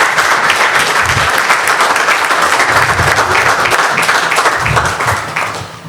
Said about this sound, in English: please join me in giving a round of applause to everyone we honor tonight